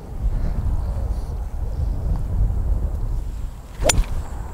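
Strong wind rumbles and buffets the microphone in continuous low gusts on an outdoor golf practice area, with a brief sharp knock near the end.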